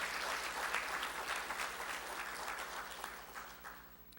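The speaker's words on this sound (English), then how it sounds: "they deserve a hearty round of applause for this effort" Quiet, distant applause from a forum audience rolls on steadily and then fades gradually toward the end, heard alone without talk over it.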